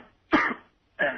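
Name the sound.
faked cough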